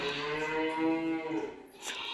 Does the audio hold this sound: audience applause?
no